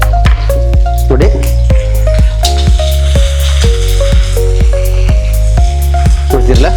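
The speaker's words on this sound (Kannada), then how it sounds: "ಈರುಳ್ಳಿ ನೀವು ಕಂದು ಬಣ್ಣ ಆಗೋವರೆಗೂ ಇದನ್ನು ನೀವು ರೋಸ್ಟ್ ಮಾಡ್ಕೋಬೇಕು" Onions roast and sizzle in a pan for chicken tikka, a steady frying hiss broken by frequent sharp metallic clinks of stirring, with music playing loudly on top.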